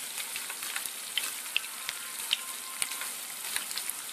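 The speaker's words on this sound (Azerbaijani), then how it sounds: "Kotletlər artıq qızarır." Cutlets of meat and vegetables frying in oil in a pan, a steady close sizzle and crackle with small pops scattered throughout, no voices.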